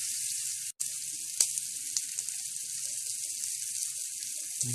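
Pork searing in a hot pan gives a steady, bright sizzle with a few sharp pops and ticks scattered through it. The sound is close and even, with no talking.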